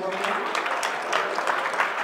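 A live audience claps briefly at a mentalist's stage show, a moderate burst of applause with scattered individual claps filling the short moment.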